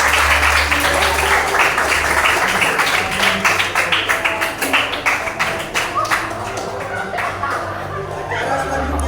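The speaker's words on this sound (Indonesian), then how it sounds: "Berikan tepuk tangan yang meriah kepada kelompok C." Lively applause for a student group in a university civics class, many hands clapping hard in a loose rhythm that thins out over several seconds, with chuckles, laughter and some talking mixed in.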